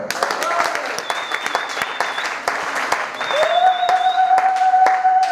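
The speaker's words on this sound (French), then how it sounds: "Acclame le Seigneur." Church congregation at a French-language service acclaiming and applauding, loud sustained clapping mixed with cheers and shouted voices, with sustained keyboard tones ringing under the crowd.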